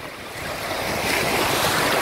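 Sea waves roll in and break on a sandy beach, a steady broadband wash of surf that swells slightly louder toward the end, with some wind noise across the microphone.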